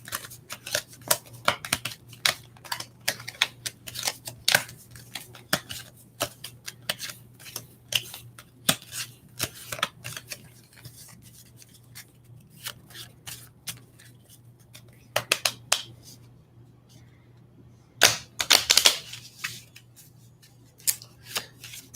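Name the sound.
shuffling a deck of tarot cards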